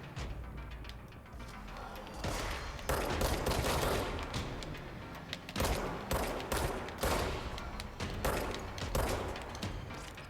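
Dense, continuous gunfire from the video game Control, with repeated sharp shots layered into a sustained barrage over about ten seconds at moderate loudness.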